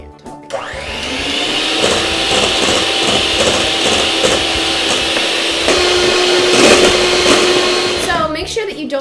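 Electric hand mixer whipping egg whites and sugar on high speed for a jiggly cake, a loud steady whirring drone that holds without break for about eight seconds before cutting off, with a little rattle at the end.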